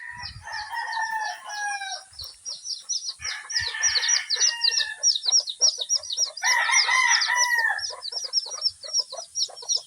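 Two brooding mother hens cluck softly among their chicks, with a steady chorus of high, thin chick peeps running throughout and a louder burst of clucking and cheeping near the middle and later on.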